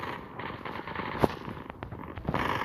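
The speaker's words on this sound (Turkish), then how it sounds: "Sağa sola bomba atıyorlar ben de atacağım." A bomb explodes in the mobile shooter game Zula, heard as one sharp blast standing out from a low, continuous bed of game noise and faint crackling.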